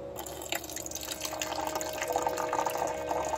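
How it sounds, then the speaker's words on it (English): Water is poured by hand into the tank of a KOIOS humidifier with an E1/HH no-water fault, a continuous filling trickle with dripping that grows slightly louder over a few seconds. "just pour water in manually and see where it stops"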